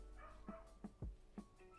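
A dog gives a string of short, hoarse barks with a seal-like honk, about four sharp yaps spaced unevenly across a couple of seconds, fairly close by, with no talking.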